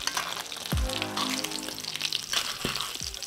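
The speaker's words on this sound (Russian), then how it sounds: "Лосось штука нежная, поэтому жарить его надо исключительно на той стороне, на которой шкурка." Salmon fries skin side down in a pan while hot oil is spooned over it, giving a steady sizzle and crackle with a few sharp spattering pops, close and moderately loud.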